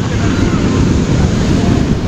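Strong ocean surf pounds a beach on a windy day, a loud continuous wash of breaking waves mixed with heavy wind buffeting the microphone.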